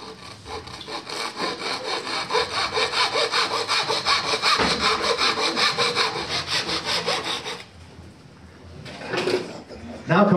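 Handsaw cutting through wood in a fast, even rhythm of rasping strokes, close and loud for several seconds, then stopping with a few quieter rubs and knocks; a person speaks briefly.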